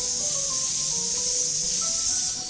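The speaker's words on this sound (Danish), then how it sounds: "Lad os sprøjte på Huggy Muggy." A long, loud, steady hiss of spider web spray being sprayed onto a Huggy Wuggy toy, continuous and close with no voices.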